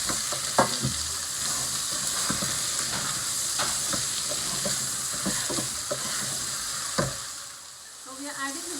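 Tomato dropped into hot oil in a pot of radish sambar, giving a loud continuous sizzle and frying hiss with stirring clatter and utensil knocks, easing slightly near the end.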